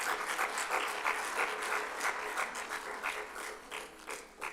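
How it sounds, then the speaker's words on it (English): A crowd claps steadily and evenly throughout, a dense wash of many hands at moderate distance with no voices over it. "Please put your hands together for him."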